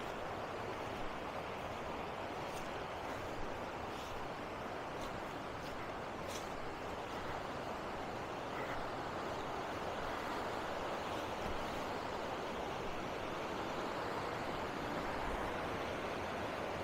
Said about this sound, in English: Ragged Rapids.